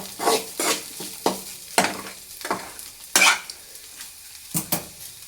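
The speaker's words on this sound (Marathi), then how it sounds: "आता आपण इथं झाकण काढून एकदा भेंडी हलवून घेऊया।" Okra sizzles in a pan as it is stirred in repeated scraping strokes, each sweep a short distinct burst over a soft frying hiss, with occasional light clinks of the utensil.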